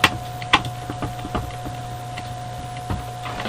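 An M2.3 screw grinds as it is driven into a Dell Latitude CSx laptop during a motherboard replacement: a run of sharp, close clicks and scrapes over a steady faint whine, with no talking.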